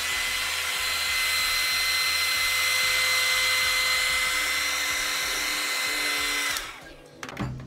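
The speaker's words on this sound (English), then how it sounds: "you're going to take your blow dryer" A handheld blow dryer runs steadily and loudly during a lace wig installation, a constant whirring hiss for several seconds that cuts off near the end, followed by brief handling noise.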